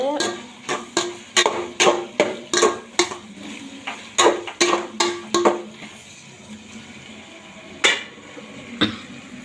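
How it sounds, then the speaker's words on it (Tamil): A spatula scrapes and clanks against a pan while ingredients for radish sambar are sautéed: a rapid, rhythmic run of close metallic knocks that thins out to a couple of scattered strikes near the end. "நல்லா வதக்கி விட்டுக்கணும் வதக்கி விட்டுட்டு"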